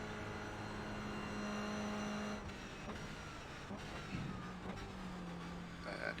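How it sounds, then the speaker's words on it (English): A race car engine drones and shifts pitch in an endurance racing sim at the Nurburgring, a steady mid-level motor note with gear changes and a faster car closing in, faint and continuous throughout. "Okay, Dwayne, there's a faster class car approaching."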